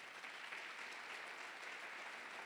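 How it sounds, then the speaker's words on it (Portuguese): A church congregation claps together in a steady, sustained round of applause during a sermon, heard faintly and at some distance. "Quem entendeu, aplauda ao Senhor Jesus."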